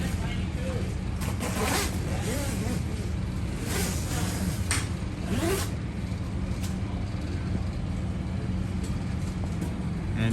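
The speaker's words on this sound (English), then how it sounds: "they also zip down the sides from when we close up" Trailer awning curtains being zipped during motorcycle-rally setup: several quick rasping zipper pulls come close and clear, spread across the first half over a constant low engine-like rumble, with people talking nearby.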